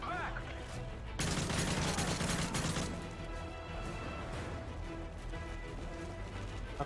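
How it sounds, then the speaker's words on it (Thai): Heavy-recoil gunfire in Call of Duty: Modern Warfare 3, a dense loud burst of rapid shots that breaks out partway through and then drops back to scattered shooting and game noise. "ปืนปืนแรงถีบโคตรสูงเลย"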